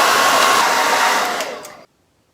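A hair dryer blows on acrylic paint on an owl door hanger, a loud, close steady whoosh of air for about two seconds that fades slightly and then cuts off into silence.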